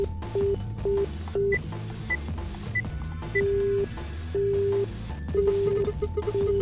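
Telephone keypad dialing tones from the video game Zero Escape: Virtue's Last Reward: a series of short electronic tone bursts in an irregular rhythm over a steady background of music.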